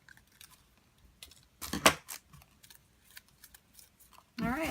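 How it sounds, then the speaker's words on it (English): Scissors snipping through crumpled paper while a wooden treat crate is being made: scattered crisp clicks and cuts with one louder rustling burst, close by, and a voice starting at the end. "then I'll simply go by with a pair of scissors and cut it all off"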